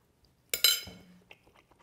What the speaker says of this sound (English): Does it help when you chew it really fast?